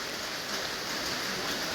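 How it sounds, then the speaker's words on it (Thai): Heavy storm rain pours down outside a house in Laos, a dense, even hiss of falling water that stays loud and unbroken throughout with no voices. "บรรยากาศทางหน้าเฮือนเนาะฝนตกเต็มเมิด"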